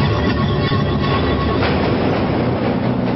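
A subway train runs through a tunnel with a loud, continuous rumbling roar and faint rhythmic rattling of cars and wheels, steady and close throughout, with no talking.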